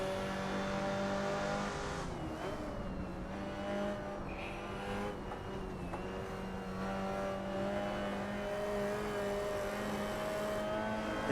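Race car engines in Assetto Corsa at Goodwood in a 1960s British saloon car race, with a V8 Mustang attacking: steady, close engine drone with shifting revs and gear changes, a brief tire squeal, and other cars close around.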